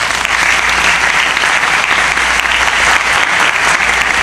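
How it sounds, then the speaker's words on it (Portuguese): Loud, steady applause from colleagues at a medical round-table meeting fills the room, a dense, unbroken wash of clapping from many hands throughout. "uma salva de palmas."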